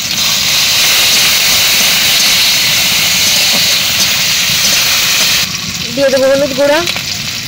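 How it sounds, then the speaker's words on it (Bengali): Onion, garlic, dried and green chillies sizzle steadily in hot oil, a loud continuous frying hiss close by, with a voice speaking briefly near the end. "পেঁয়াজ রসুন ভালোভাবে ভাজি করা হয়ে গেছে"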